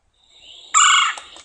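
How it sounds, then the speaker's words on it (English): A red-bellied woodpecker gives its throaty, trilling quirr call, starting softly, then swelling into one loud, rolling trill before trailing off, clear against a quiet background. "the red-bellied woodpecker makes a sound called a quirr. It's a trilling sound."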